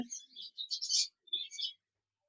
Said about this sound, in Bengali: এক পিস রানিং সানকুনুর পাখি রয়েছে